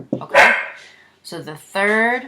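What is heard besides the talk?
dog barking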